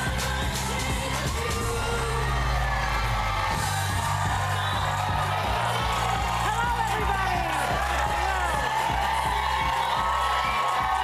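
A lively daytime talk-show studio audience cheers and whoops continuously, a dense roar of voices and applause filling the room from start to finish.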